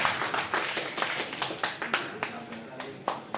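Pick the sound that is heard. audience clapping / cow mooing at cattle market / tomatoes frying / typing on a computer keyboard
audience clapping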